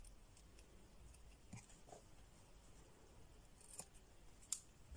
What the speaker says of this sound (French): Je vais couper le surplus de ruban.